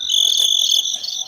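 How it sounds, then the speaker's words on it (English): Crickets chirp in a steady, high, shimmering trill, fairly close and continuous over quiet background for a brief moment. "Crickets."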